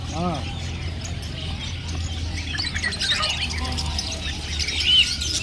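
A chicken squawks briefly a few times over steady crowd noise and people talking nearby at a Friday animal market in Kuwait, the calls faint and scattered.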